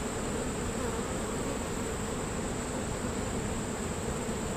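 Honeybees buzzing in a sparsely populated hive during a late July inspection, a steady even drone that holds constant and fairly faint throughout, with no talking.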